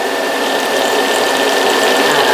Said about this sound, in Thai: อุด กด ง้างนะครับ ให้เกิดฟองอากาศ